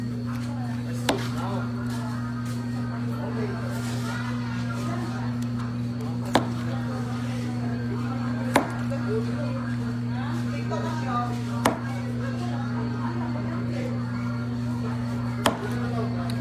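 Sharp knife taps on a cutting board sound at irregular intervals, a few isolated chops spread across a steady background hum with soft chatter, while vegetables are prepared for pakbet.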